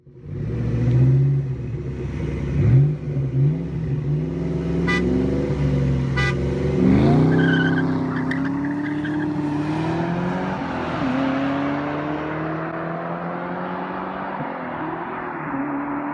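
A 2004 Mustang Terminator Cobra, boosted to around 20 pounds, races a stock Cobra: loud engines rumble and rev, rising through repeated gear pulls, with a couple of brief horn-like tones mid-run before fading away.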